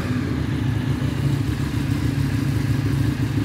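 A Ducati Streetfighter 848 motorcycle with a Termignoni exhaust running at a steady, loud idle with a low rumbling throb and faint clatter throughout.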